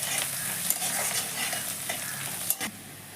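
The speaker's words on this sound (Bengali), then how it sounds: "একটু ভেজে নিচ্ছি।" Chopped onions fry in a pan, lightly browning with a soft steady sizzle, while a spoon stirs them in a few scraping strokes and occasional clinks.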